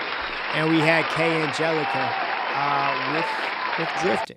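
An audience applauds performing artists at a live music show. The clapping is dense and continuous for a few seconds beneath someone speaking loudly over it.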